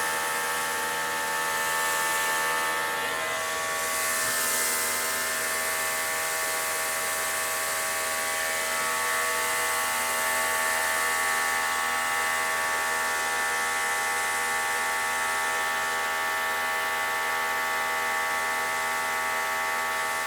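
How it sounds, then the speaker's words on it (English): A Greenworks electric pressure washer runs continuously with a loud, steady high-pitched whine and buzz that holds without a break throughout. "You're gonna wake up your neighbors, you know, an electric pressure washer."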